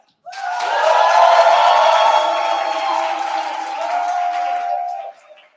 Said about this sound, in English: If I said, give him a level 10 round of applause, what does that sound like?